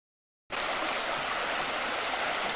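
The Piney River stream flows along the Piney Branch Trail in Shenandoah National Park, a steady, close, hissing rush of water that cuts in abruptly after a half-second of silence and continues evenly with no voices.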